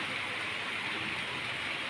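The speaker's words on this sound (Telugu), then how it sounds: "వాన చూడండి ఎలా పడి పెద్ద పెద్ద చినుకులు పడుతున్నాయి" Rain falls in big drops during a summer sun shower, a steady, soft, even hiss with no pauses.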